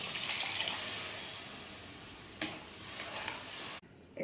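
Extra water is poured into a cooking pan of Thanjavur-style vadai kulambu: a steady, soft splashing pour lasting a few seconds, then stopping abruptly.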